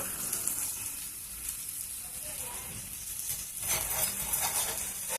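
Dried curry leaves, turmeric and asafoetida fry in hot oil for a tamarind pickle tempering, giving a steady close crackling sizzle that swells louder near the end, with no talking.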